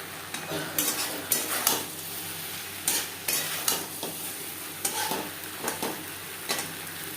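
Eggplant and potato cooking in a pan for a Bengali curry, with repeated scraping stir strokes in an uneven rhythm over a steady sizzle, close and fairly loud, with no talking.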